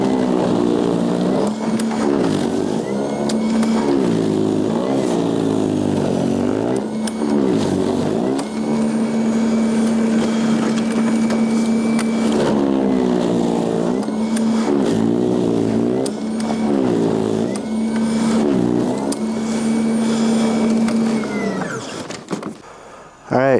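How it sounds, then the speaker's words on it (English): A RYOBI 40V battery-powered snowblower with its auger at high speed clears snow, producing a steady loud electric whine and churning drone that rises and dips repeatedly as it pushes through deeper sections, with no one talking. "I've got the auger set to the high speed. As you can see, it cuts through the snow without much problem."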